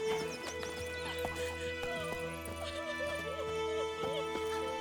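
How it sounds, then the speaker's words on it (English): Horses in the video game The Witcher 3 clop and shuffle with steady hoof beats. Occasional soft snorts or whinnies sound over a constant ambient hum with light game music, and no one speaks. "What's going on with the horses?"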